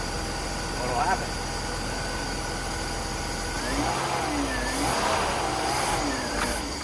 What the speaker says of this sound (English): Does not like revs at all.